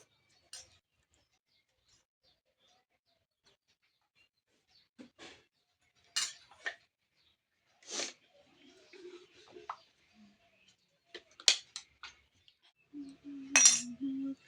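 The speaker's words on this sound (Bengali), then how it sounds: "এখন খাচ্ছি খিচুড়ি।" Khichuri being eaten with utensils, sparse faint clinks and taps of a spoon against a plate scattered across a quiet room, with brief soft voice sounds near the end.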